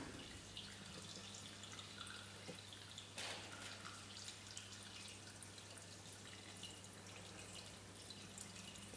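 Water gently laps and drips softly, a faint, quiet trickle with occasional tiny splashes over a steady low hum, no voices.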